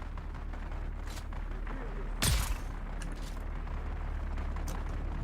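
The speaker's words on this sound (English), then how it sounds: "Is that where I'm hearing the gunshots from?" A single loud gunshot cracks in the video game Dune: Awakening, a sharp boom standing out over steady background game noise, with a few faint distant pops after it.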